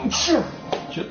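A single sharp sneeze bursts out during a casual podcast recording among friends, fairly close and loud, followed by a brief quieter breathy sound.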